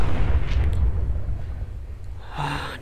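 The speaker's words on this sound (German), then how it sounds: "Eine geile Explosion." An explosion in the video game Fallout 4 sounds as a deep, rumbling boom near the start that slowly dies away into a low roar, followed by a brief, faint rush near the end.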